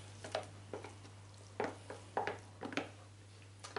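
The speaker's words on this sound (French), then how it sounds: "Puis dans notre récipient de pommes de terre, on va venir ajouter donc la viande, les légumes." Spoon stirring potatoes mixed with meat and vegetables in a bowl for a potato pie, a series of soft, separate scraping and clinking strokes in an irregular rhythm, close and quiet with no talking.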